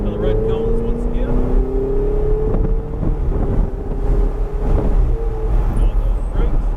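A car accelerating hard on the track at Sonoma Raceway, its engine note climbing steadily and loud over heavy wind buffeting, with a voice talking underneath.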